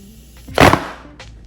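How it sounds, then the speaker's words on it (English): A quick spritz of Morphe setting spray gives one short, airy hiss near the middle, with a fainter puff just after in a quiet room. "Now I'm gonna give a quick spritz of my Morphe Setting Spray."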